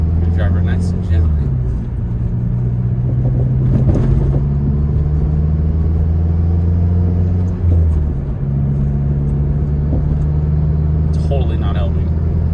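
MazdaSpeed3 cruising steadily on the road, a close, continuous low engine drone and cabin rumble with slight pitch shifts as it changes speed, and a voice talking over it at times.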